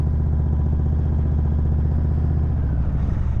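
Motorcycle engine chugging steadily at low speed during a slow-race riding drill, a close, loud, even mechanical thrum with a slight rise toward the end.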